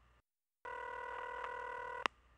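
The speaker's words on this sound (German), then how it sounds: "Das Telefon bimmelt noch." A telephone rings in The X-Files video game, one sustained electronic ring tone after a short silence, fairly quiet and clean, ending with a sharp click.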